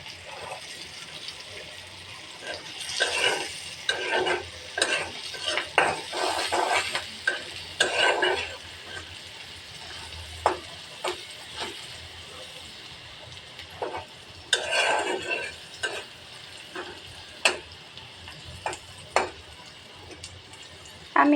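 Onion and green chilies being stir-fried with chili powder for a Bengali sour egg curry, with scraping stirs and light sizzling in bursts through the clip, and a voice talking intermittently.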